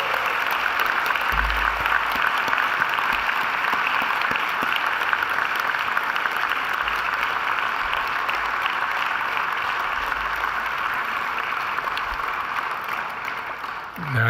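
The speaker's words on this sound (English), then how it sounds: "give them a mighty round of applause in thanks" Graduation ceremony audience at Macquarie University applauding graduates' families and friends, a steady dense wash of many hands clapping that holds evenly throughout and tapers slightly near the end.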